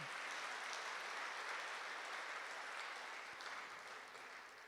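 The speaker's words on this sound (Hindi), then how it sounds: "हाँ, ताली बजाओ, अच्छी तरह से बजाओ।" A seated spiritual gathering claps together in a steady, even wash that holds at a constant level for several seconds and eases slightly at the end.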